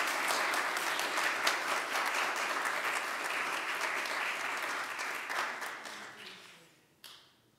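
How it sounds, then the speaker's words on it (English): A church congregation applauds the new members at a 2020 confirmation service with sustained, dense, full-room clapping that holds steady for several seconds before tapering off. "let us give all of our new members a round of applause"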